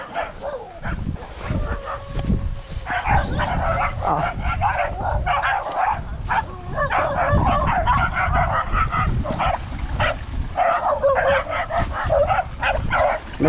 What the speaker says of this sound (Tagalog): may dumara yung aso po.